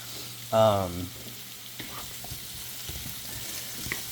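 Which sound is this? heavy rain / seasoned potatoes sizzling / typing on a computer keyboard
seasoned potatoes sizzling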